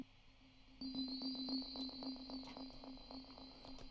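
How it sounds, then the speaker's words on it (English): A synthetic tone passed through a couple of delays, a reverb and a ping pong delay: a steady low hum under a sustained high whistle, with rapid evenly spaced echo pulses repeating and smearing into a faint tail. "A couple of delays been fed into a reverb, been fed into a ping pong delay."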